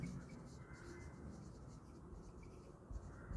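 Chalk or marker scratches across a board for an accountancy journal entry, a soft continuous rasp at low volume with a few small taps near the end.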